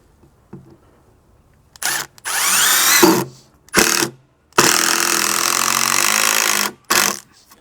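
A power drill drives screws into a wooden deck beam during a barbecue installation, with several short whirring bursts followed by a long, loud sustained run and a final brief burst, close up with no talking.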